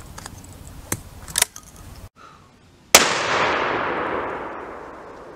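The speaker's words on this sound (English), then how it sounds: "You can shoot slugs comfortably with this." A shotgun fires a single slug outdoors: one sharp, loud blast with a long decaying rumble and echo, after a few fainter clicks and handling noises.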